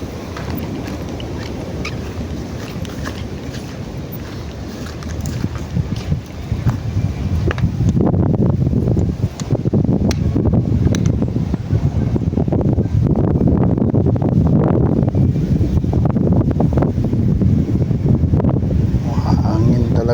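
Strong gusts of wind buffet the microphone in a steady roar that grows louder after the first few seconds, with faint voices underneath.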